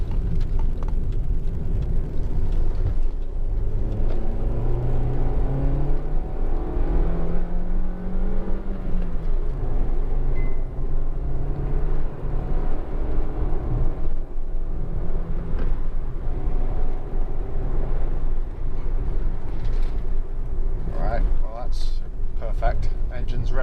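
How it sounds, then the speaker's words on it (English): A Honda Civic 1.4 i-VTEC Si five-door revs hard with a rising engine whine, then brakes hard, the engine note falling away. Continuous road and cabin noise runs throughout, and a person talks over parts of it. "I'm going to rev through quite hard on the car, and then I'm going to hit the brakes quite hard as well"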